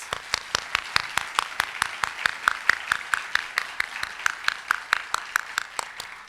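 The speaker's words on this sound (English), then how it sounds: "Let's give our panelists a round of applause." A small breakfast-event audience applauds a panel on downtown developments. The claps are sharp, distinct and fairly close, falling in a steady, almost unison rhythm of about four per second for over six seconds.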